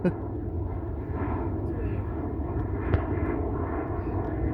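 A continuous low rumble of an airplane overhead, steady and moderately loud, with voices faintly present underneath.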